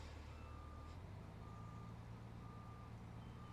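A tractor in Farming Simulator 19 backs up with its reversing alarm beeping in an even, repeating pattern over a low engine drone, quiet and alone.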